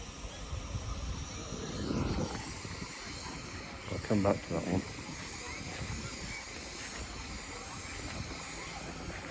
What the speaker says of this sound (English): it's a steam engine powered Land Rover.